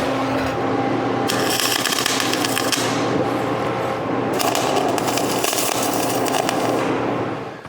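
Tack welding on a box-store log splitter being modified: two long stretches of loud, harsh crackling and sizzling at close range, separated by a lower steady hum, with no talk.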